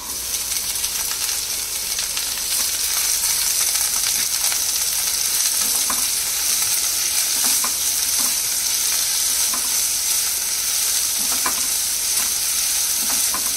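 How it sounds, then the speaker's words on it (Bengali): Chopped onions frying in a pan after garlic for chicken bhuna, a steady dense sizzle running throughout with occasional soft stirring scrapes, close and fairly loud, no voices. "পেঁয়াজটা একটু লাল করেই ভাজতে হবে।"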